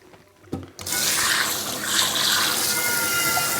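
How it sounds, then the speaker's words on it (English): Tap water running to rinse a cast iron pan, a bright steady splashing rush that starts after a brief clunk and continues close by. "Let's try the rinse again."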